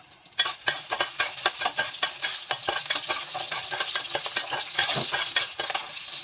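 Garlic frying in a hot pan for simple fried noodles, a loud close sizzle with rapid rhythmic scraping of a utensil against the pan, starting abruptly and continuing steadily, with no talking.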